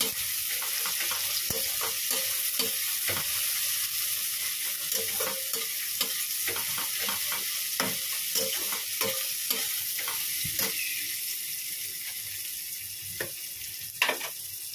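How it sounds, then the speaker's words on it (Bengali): Onions fry to a reddish-brown in a pan under a steady close sizzle, broken by repeated scraping knocks of a spoon stirring them, with no voices. "এদিকে লাল লাল করে পেঁয়াজটা ভাজা হচ্ছে"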